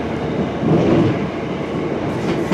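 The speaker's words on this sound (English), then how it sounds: "So that's the South Western Railways line coming in." A South Western Railway train pulls into a London-area station platform, a steady loud rumble of wheels and carriages that swells briefly and holds, with no talk over it.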